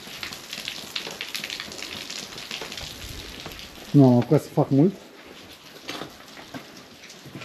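Heavy rain pours outdoors near a cabin in the woods where firewood is being stacked, a dense steady patter throughout, with someone speaking briefly over it.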